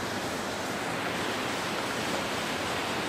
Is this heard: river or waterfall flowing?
yes